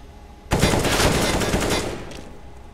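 Valorant gunfire on the Breach map, a sudden loud burst of rapid automatic shots that starts abruptly, holds for more than a second and then trails off, with no talking over it.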